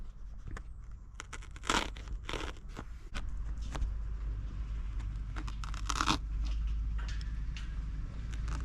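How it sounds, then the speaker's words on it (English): Foam car headlining on an MG ZT / Rover 75 is being cut and torn for rear passenger holes, with scattered crinkling, tearing and crunching bursts at close range over a steady low hum. "I've got to cut the holes in the foam, sorry, in the headlining for the passenger"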